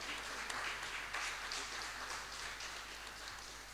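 A church congregation applauds during a sermon, a steady wash of many hands clapping together, moderately distant and fairly quiet, lasting throughout without any voice on top.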